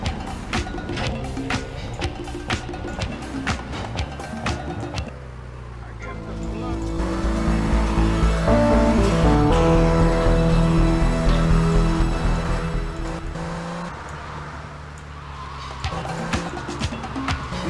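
Cars racing past in Grand Theft Auto, engines swelling loud then fading as they speed by, with tire noise and game music; a voice talks over the start and end.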